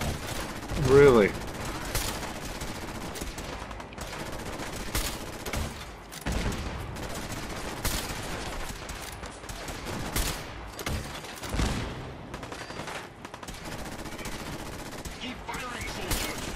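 Gunfire from the video game Fallout 4 rattles through the whole stretch, with dense bursts and separate sharp cracks of varying loudness, some near and some farther off, in a busy battle mix.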